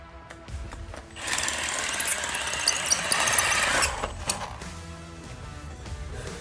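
A 13-inch carbide masonry bit drills into concrete inside a building, giving a loud, harsh grinding roar that runs steadily for about three seconds before cutting off, with quieter scraping and knocks before and after.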